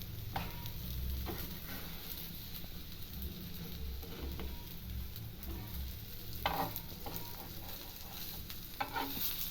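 Raw banana and potato cutlets frying in oil in a pan, a continuous dense sizzle like light rain, close and steady, with a few brief clatters as they are flipped.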